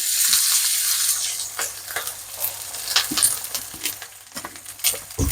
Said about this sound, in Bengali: রান্না বসানোর জন্য পেঁয়াজ দিয়ে দিলাম